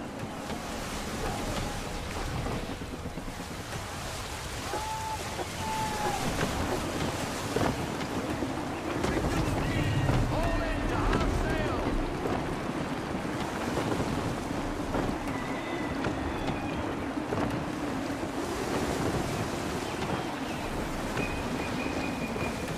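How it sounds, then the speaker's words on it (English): Gusty wind roars steadily over rolling waves and creaking rigging as a sailing ship cuts through open water in Assassin's Creed III, a continuous loud maritime wash with occasional brief tonal calls. "Gusty winds can be difficult to manage"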